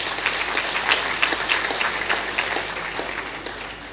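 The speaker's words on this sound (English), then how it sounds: "I thought I would hear a round of applause for" Steady applause from an accountants' induction ceremony audience fills the hall, dense clapping sustained throughout.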